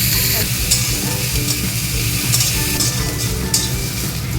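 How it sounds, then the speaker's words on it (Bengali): Onion and garlic fry in mustard oil in a pan, giving a loud, continuous close sizzle with occasional stirring scrapes and no talking. "যে পেঁয়াজটা ভাজা ভাজা হয়ে গেছে, পেঁয়াজ আর রসুন আমি তুলে নেবো।"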